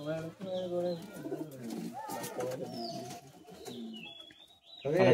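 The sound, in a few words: pigeons cooing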